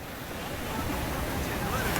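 Ocean surf on a Hawaii beach, a soft steady wash of waves with wind noise on the microphone, faint and continuous over two seconds.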